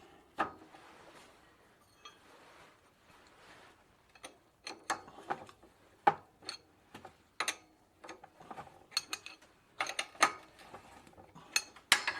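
Tools working on a bicycle crank during a repair of an old bicycle, heard as a string of sharp metallic clicks, ratcheting and knocks in irregular bursts, close and fairly quiet, with no talking.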